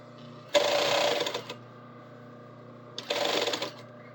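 Serger sewing machine stitching along fabric for a collar, with two separate bursts of steady, rapid mechanical whirring close by: a longer run of about a second, a pause, then a shorter run.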